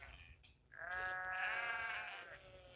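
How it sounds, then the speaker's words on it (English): A hungry sheep in a farm pen gives one long, wavering bleat up close, loud and sustained for about two seconds, with a fainter call just before it. "Here we go. Sheep."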